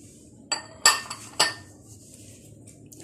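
A utensil mixes powdered milk and flour in a bowl, giving three sharp metallic clinks in quick succession against a quiet background, followed by a faint soft tap.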